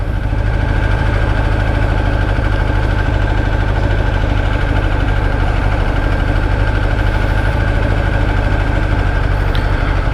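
A 1994 Kawasaki Ninja ZX11 motorcycle engine idling at about 1,500 rpm, a loud, close, steady low rumble with a fast even pulsing throb and no talk.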